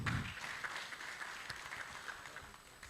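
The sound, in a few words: audience applause at health forum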